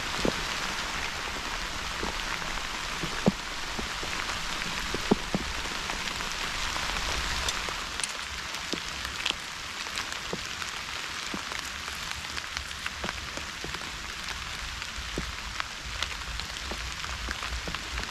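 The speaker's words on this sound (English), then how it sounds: "It's raining all right." Steady rain falls on surfaces, with scattered louder drops tapping nearby; no voices, just a constant wash of rainfall.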